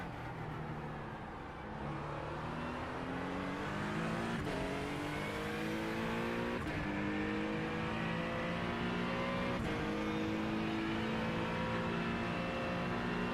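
Race car engine in a racing video game set at St Petersburg, a loud steady roar with repeated rising revs and sharp gear-shift drops, running continuously up close with no talk.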